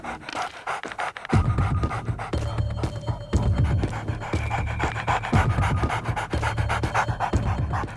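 Police dogs at a murder scene in a Telugu crime film pant quickly and steadily, close and loud throughout, over a low, throbbing musical score.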